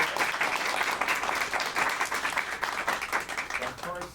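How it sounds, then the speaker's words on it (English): Audience applause at a live strings concert, a thick sustained patter of many hands clapping at moderate volume, with a few voices heard faintly under it. "Nice applause."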